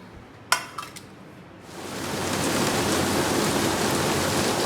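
Heavy rain pours down outside during cooking, a steady broadband hiss that swells in after a few clattering kitchen knocks near the start and then holds loud and even.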